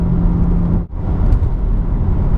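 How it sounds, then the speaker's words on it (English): A BMW M240i engine hums steadily while cruising in 7th gear at about 55–60 mph, a low continuous drone with road noise and a brief dip partway through. "And you can just hear the engine in the background"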